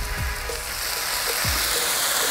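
Onion burgers hiss loudly and steadily on a Halo Elite flat-top griddle, El Reno Oklahoma style, with a couple of soft low thumps as patties are flipped over the constant sizzle.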